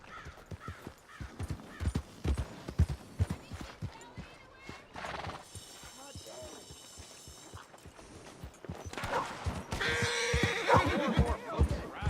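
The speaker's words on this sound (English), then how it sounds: "Tem alguma coisa ali que o cavalo se assustou." A horse in the video game Red Dead Redemption 2 whinnies and neighs amid clip-clopping hooves and clattering mechanisms, moderately close, with a bird cawing briefly and someone talking at points.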